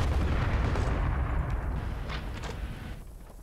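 An artillery gun firing a high-explosive shell in Call to Arms, with a heavy, sustained booming blast rolling out loud and close before slowly fading.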